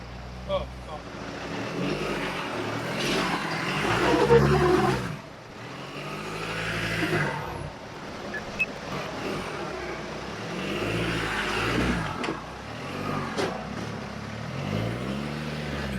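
A 4WD grinds up a rock step on an extreme rock crawling track, its engine surging and revving in waves with a loud burst midway, while someone talks over it.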